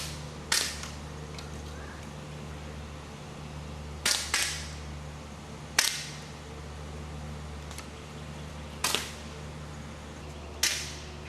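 Rifle shots ring out at a 4-H shooting competition, five sharp cracks spaced several seconds apart, each followed by a brief echo over a steady outdoor background hum.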